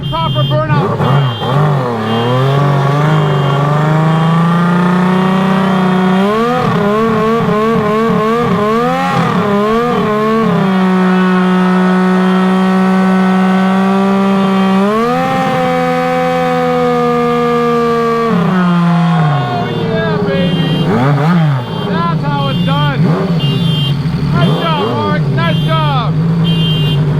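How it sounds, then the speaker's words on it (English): Honda CBX1100 turbo motorcycle doing a burnout, the engine screaming at high revs with rising and falling pitch sweeps, loud and close throughout, with a brief dip near the end. "He's going to show us how a proper burnout is done."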